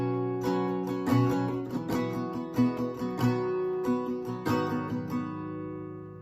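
Acoustic guitar strummed through the last line of the chorus of a song, live version, with steady rhythmic chord strokes ringing out clearly and close for about six seconds, no voices.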